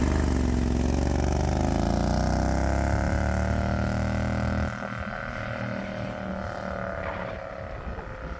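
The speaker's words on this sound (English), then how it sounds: "is a mighty 670cc V-twin Predator engine, and this mostly stock engine has had some upgrades" A 670cc V-twin Predator engine with twin 26mm carburetors in a 1969 Renault runs with a steady, loud drone that shifts in pitch partway through, then settles into a lower, rougher idle-like note.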